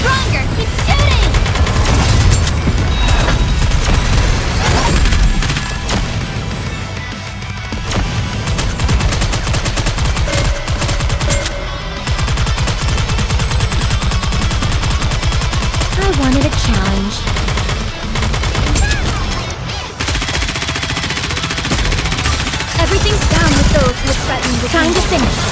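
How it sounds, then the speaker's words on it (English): Rapid automatic gunfire rattles almost nonstop in the mobile shooter Nikke: Goddess of Victory, loud and dense, with game music and character voices mixed throughout. "Faster, stronger, keep shooting!"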